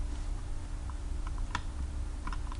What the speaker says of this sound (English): I'm going to hit the delete button on my keyboard